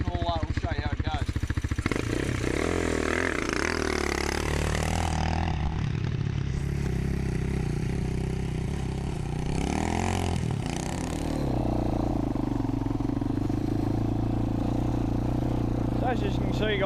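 A motorcycle engine drones steadily during a ride, its pitch rising and falling with throttle changes, loud and continuous with wind buffeting throughout.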